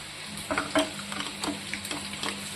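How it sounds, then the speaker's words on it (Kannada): Chili oil being stirred into chicken in a pan, with soft scraping strokes and a light steady sizzle running underneath, close and fairly quiet. "ಇದನ್ನೆಲ್ಲ ಚೆನ್ನಾಗಿ ಮಿಕ್ಸ್ ಮಾಡ್ಕೊಳ್ಳಿ."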